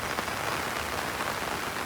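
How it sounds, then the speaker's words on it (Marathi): Heavy rain pouring steadily, a dense, even hiss of drops drumming on surfaces throughout, with no voices. "तो जाम पाऊस पडतोय"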